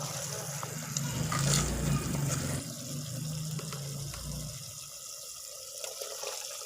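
Roughly half a glass of water pours into a pot of chicken curry, a rushing splash that is loudest early and then settles into a softer, steady trickle.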